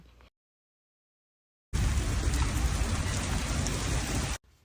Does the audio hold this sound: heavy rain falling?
yes